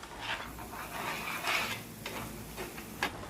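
Fresh coriander and mint drop into a pan over a stove flame for a Telugu chicken curry, with light clinks and rustling bursts over a faint, quiet background hiss.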